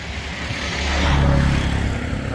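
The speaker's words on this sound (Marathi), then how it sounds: "आता एक जस्ट रिक्षा गेली माझ्या मागून" An auto rickshaw passes close behind on a quiet creekside road at Mithbav in Devgad, Konkan, its engine rumbling louder to a peak midway and then fading, over steady wind noise.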